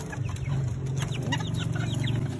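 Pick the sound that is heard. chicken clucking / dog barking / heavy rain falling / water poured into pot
chicken clucking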